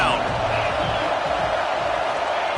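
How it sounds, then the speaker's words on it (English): A football stadium crowd roars continuously and loudly on third down, a dense wash of noise with commentary running underneath. "Decibels rising as the crowd gets behind this defense on third down."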